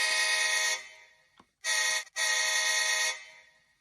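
Scale model GE C44-9W locomotive horn: a bright, multi-tone air-horn chord in three blasts, one long, one short, then another long, loud and close with no voices.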